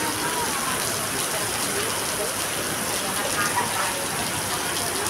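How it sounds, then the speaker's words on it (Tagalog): Heavy rain pours steadily with a dense, hissing roar that never lets up, loud and all around, with faint voices mixed in. "Sobrang lakas ng ulan."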